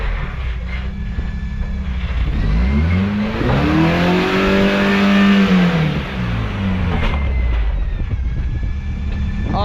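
A 1986 Toyota pickup with a three-link suspension and dual transfer case, driving off-road while its engine revs up loudly, the pitch sweeping up and then back down, a rough, close roar lasting throughout.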